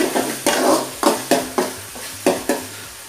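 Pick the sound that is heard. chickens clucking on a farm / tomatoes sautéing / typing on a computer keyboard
tomatoes sautéing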